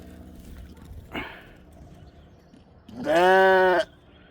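Ewes bleating on a sheep farm, one short call early on followed by a longer, louder bleat close by against a quiet outdoor background.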